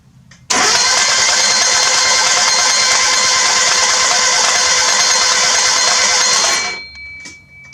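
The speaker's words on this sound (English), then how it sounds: "we're going to go ahead and try to crank it over at this time" A freshly built forged engine in a Mazda Miata cranks over on its starter with no belts fitted, a loud, even whirring drone that starts abruptly and runs for about six seconds before winding down.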